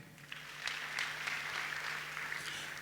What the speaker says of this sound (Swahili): Jipigieni makofi.